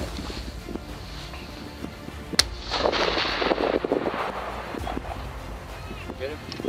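A single sharp gunshot cracks out while coyote hunting in Michigan, followed by a burst of outdoor noise and rustling, with people talking throughout.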